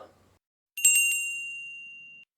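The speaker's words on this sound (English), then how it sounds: "Bell." A single bell strike rings out clearly after a brief quiet moment, its bright tone sustaining and slowly fading for well over a second with nothing else heard.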